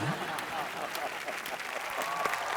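Studio audience applause on a Hindi comedy entertainment show stage, a steady broadband clatter of many hands clapping throughout, fairly distant and even, with a voice briefly heard over it.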